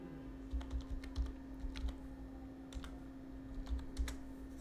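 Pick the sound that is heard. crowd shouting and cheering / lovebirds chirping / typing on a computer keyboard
typing on a computer keyboard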